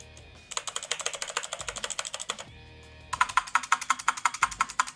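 Typing on a Redgear Shadow Blade mechanical keyboard, two bursts of rapid, crisp clicky keystrokes close up, separated by a brief pause, with a fast even rhythm.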